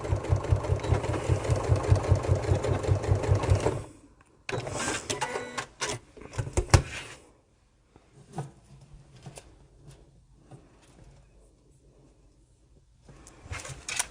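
Sewing machine stitching polyester thread at a 2.4 stitch length and reversing, a close rapid mechanical chatter for several seconds, then broken handling noises and intermittent short machine bursts.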